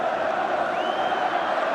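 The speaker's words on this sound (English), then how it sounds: "the crowd at the Gallowgate end rising to applaud Chris Waddle and Peter Beardsley" A football crowd at the Gallowgate end of Newcastle United's ground applauds a goal against West Ham in 1984-85, a broad, steady roar of clapping and cheering with a brief whistle-like whoop rising above it.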